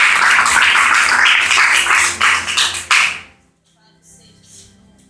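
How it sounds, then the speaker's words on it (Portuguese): A church congregation claps loudly and vigorously in praise, a dense roar of applause with a few rhythmic bursts that breaks off abruptly into near silence, with faint voices afterward. "E que as palmas glorificam o Senhor bem forte"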